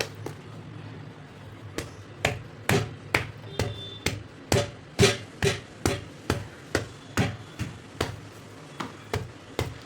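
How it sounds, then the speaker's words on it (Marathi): Steady pounding of urad dal papad dough on a kitchen counter, about twenty dull thuds in an even rhythm, close and moderately loud. "आपल्याला ह्याला आता ठेचून घ्यायचे. तर आपण ओट्यावर ठेचूया."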